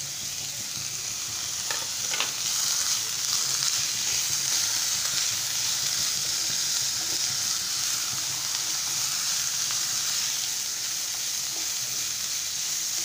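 Cabbage sautéing in a pan while making restaurant-style chicken fried rice: a steady, close frying sizzle with hiss runs throughout, with a few brief scraping stirs early on.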